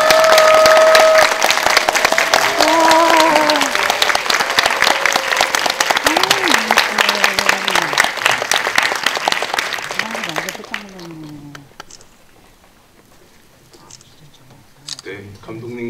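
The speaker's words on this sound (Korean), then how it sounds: "큰 박수 주시면" A cinema audience applauds loudly to welcome a film director and actors to the stage, dense clapping lasting about ten seconds before dying away, with a voice speaking briefly near the end.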